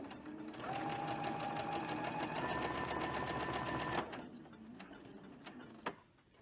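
A sewing machine chain-stitching quilt fabric pieces runs in a steady, fast mechanical whir for a few seconds, then stops abruptly, leaving a quiet room with a faint click.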